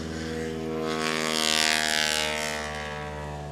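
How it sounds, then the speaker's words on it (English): Loud, sustained roar of a STOL aircraft's multi-cylinder piston engine at a National STOL championship in Sulphur Springs, Texas, swelling to a peak in the middle and easing slightly, heard at a distance without talk. "So many cylinders in that engine making so much noise"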